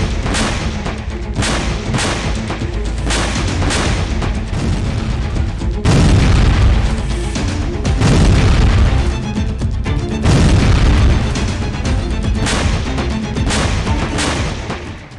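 Heavy booms from Russian Iskander-M missile strikes hitting Kharkiv, a dense run of loud, rumbling blasts with several stronger impacts spaced a few seconds apart and no voices.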